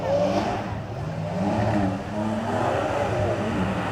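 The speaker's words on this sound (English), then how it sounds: "I think that is the first time I have ever seen a Porsche spin up its rear wheels here at Beaulieu." A Porsche at the Beaulieu Supercar Weekend revs hard while spinning its rear wheels on a low-grip surface, a loud, sustained engine roar that rises and falls steadily throughout.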